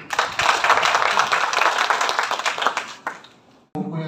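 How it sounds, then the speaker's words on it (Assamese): Audience at a film-making workshop breaks into loud, dense clapping that holds steady for about three seconds, then thins and stops; a voice follows briefly after. "তেখেতসকলৰ কাৰণে অলপ ডাঙৰকৈ হাত চাপৰি হ'ব লাগে"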